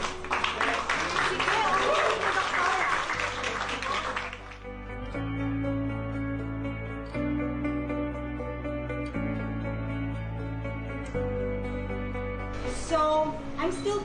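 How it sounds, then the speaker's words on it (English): A burst of audience applause and cheering for a few seconds, giving way to sustained music with tonal chords. "Welcome with a great big round of applause, Nadine."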